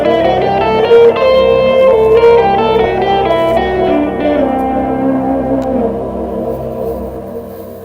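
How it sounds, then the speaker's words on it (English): Piano playing a C Lydian dominant scale in a live piano session, a run of sustained, ringing notes with heavy reverb and echo tails, loud and steady throughout with no talking. "So the C Lydian Dominant scale looks and sounds like this."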